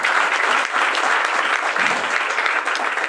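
An indoor audience at a business talk breaks into sustained, dense applause, with many hands clapping steadily at close range and no pauses.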